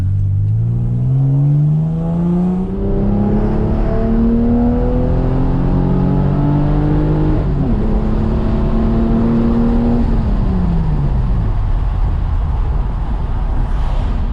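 A twin-turbo Lexus SC300 with a five-speed manual pulls hard through the gears, engine tone climbing steadily then dropping at a shift, loud and continuous from inside the car.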